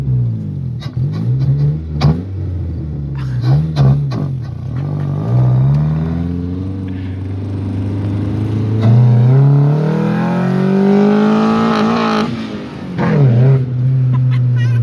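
Honda Civic EK engine revving hard against the rev limiter, heard as loud, close repeated climbs in pitch that hit the cutoff and stutter back down, several rev cycles in a row.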